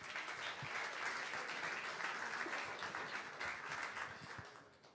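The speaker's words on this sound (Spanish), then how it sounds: "Dale un aplauso fuerte al Señor." Congregation applauding at a Spanish-language church service, a steady dense wash of clapping lasting several seconds at moderate distance before tapering off slightly at the end.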